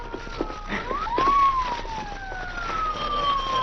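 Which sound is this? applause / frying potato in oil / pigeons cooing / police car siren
police car siren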